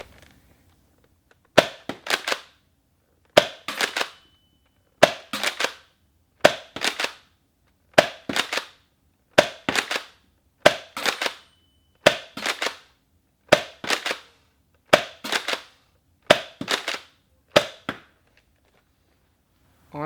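A Nerf Rival Forerunner XXIII-1200 blaster fires regular Rival foam balls in a series of about a dozen sharp, close pops, each spaced a second or two apart with a short mechanical rattle after, in an otherwise quiet room.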